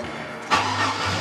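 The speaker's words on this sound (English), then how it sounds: "now I start the engine" A car with its gear shifter stuck in park cranks over and fires up halfway through after a quiet stretch, then settles into a low, steady idle.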